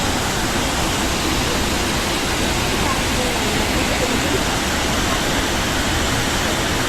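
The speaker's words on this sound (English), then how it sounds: "the waterfall is falling" Meenmutty waterfall pouring in a narrow gush into a pond below, a loud, steady broadband roar of falling water that fills the whole span without a break.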